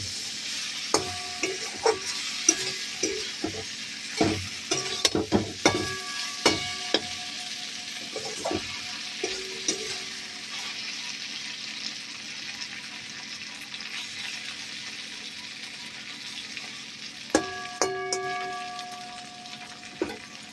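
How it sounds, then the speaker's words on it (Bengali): Okra cooking covered over a low flame gives a soft background sizzle, punctuated by irregular metallic clinks and scrapes of a spoon and lid in two clusters, quiet overall with no talking. "এবারে এটাকে লো ফ্লেমে আছে আস্তে করে ঢাকা দিয়ে দিয়ে সেদ্ধ করতে হবে ঢেঁড়সটাকে"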